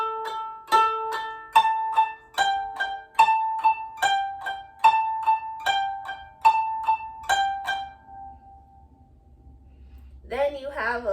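Koto phrase from Hana Ikada plucked across strings 8 to 13: a steady run of clear, ringing single notes about two per second, each decaying, then the tones fade and a voice begins at the end.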